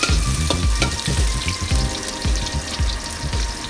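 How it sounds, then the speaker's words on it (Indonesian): Chopped onions fry and crackle in hot oil in a home kitchen, with a spatula stirring and scraping through them in steady rhythmic strokes over a constant close sizzle. "Masukkan bawang bombaynya. Nah, kita aduk-aduk sebentar."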